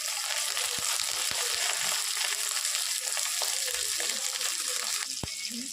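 Soaked chana dal sizzles and fries steadily in hot oil for a spinach-and-dal curry, with a constant hiss and a few light clinks of a stirring spoon.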